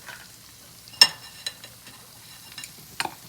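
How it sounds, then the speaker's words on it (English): Tomato sauce cooks in a hot pan on medium heat with a faint sizzle, while a few sharp utensil clicks and scrapes stand out from the low bubbling. "I'm gonna add a little bit of tomato sauce into here."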